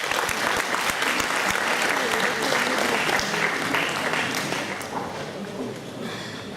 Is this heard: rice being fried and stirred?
no